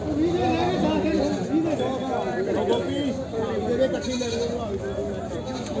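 Goats bleat repeatedly at a busy goat market, with steady overlapping voices and crowd chatter running beneath them throughout.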